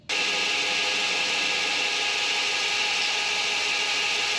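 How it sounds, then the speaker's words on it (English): A belt sander running a 120 grit belt to refine and smooth the shaped lines of a knife handle, giving a steady, loud continuous whir and abrasive hiss that holds unbroken throughout, with no talking. "Hopefully I've got maybe like a 120 grit belt, and gonna just kind of keep on refining that and try to get those lines a little bit smoother"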